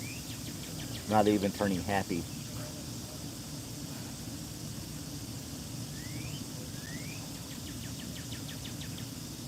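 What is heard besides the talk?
cardinal bird calls and cicadas buzzing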